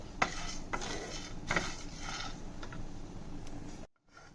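Nuts being lightly fried and stirred in a pan, with a spoon scraping and clinking against the metal in irregular strokes over a soft sizzle, close and fairly quiet, ending abruptly.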